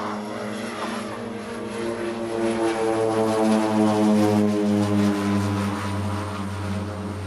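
A propeller aircraft takes off with its engines at full power, a loud, steady droning roar with strong tonal harmonics that swell slightly and hold throughout. No one speaks.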